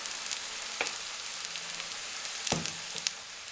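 Maize roti brushed with ghee sizzles softly on a pan over low flame, a faint steady hiss with a couple of brief crackles and clicks, close and quiet without talk.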